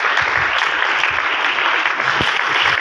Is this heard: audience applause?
yes